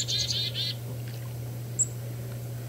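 Wild bird calling outdoors, a brief burst of high, quick chirping notes at the start followed by one faint distant chirp, heard over a steady low hum.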